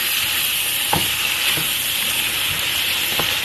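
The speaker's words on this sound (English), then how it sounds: "We're going to put a good little sear on this." Sausage and peppers sear in butter in a hot pan, giving a continuous loud sizzle with a few soft stirring scrapes and clicks on top.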